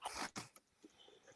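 A single sharp sneeze bursts out at close range during a tabletop game session, followed by quieter rustles and small room noises.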